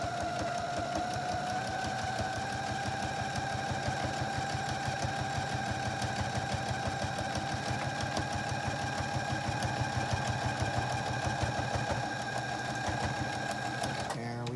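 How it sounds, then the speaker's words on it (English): A sewing machine runs continuously while top stitching a zippered pouch, a fast, even mechanical clatter with a steady motor whine, close and loud throughout. "Both our top stitching sides are now done."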